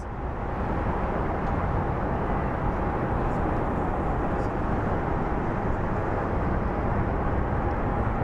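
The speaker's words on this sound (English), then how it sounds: "we should be getting a flight coming in from Fargo next, and then a United Airlines." A jet airliner arriving at Phoenix Sky Harbor International Airport gives a steady, broad roar with a faint whine, holding loud and constant throughout without clear rise or fall.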